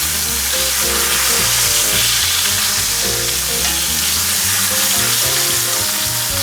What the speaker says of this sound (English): I'm going to sear these just a little bit longer